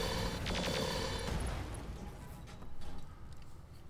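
Mech weapons firing in the Roguetech mod of the BattleTech video game, a loud, dense volley of overlapping shots and blasts that fades into rumbling impacts, with no talk.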